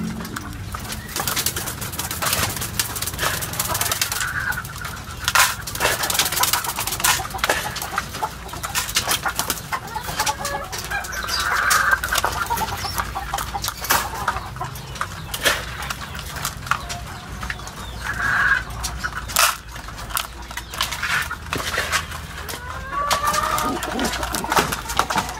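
Racing pigeons and breeders cooing in their loft at feeding time, soft repeated coos and bird calls mixed with constant fluttering, scratching and clattering, with a little talk now and then.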